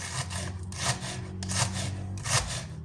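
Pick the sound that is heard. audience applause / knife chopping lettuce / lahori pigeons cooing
knife chopping lettuce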